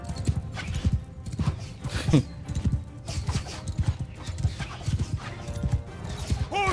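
Horse hooves gallop in a rhythmic clip-clop during a Mount & Blade II Bannerlord battle, steady and fairly close, with brief whinnies and game battle noise around them.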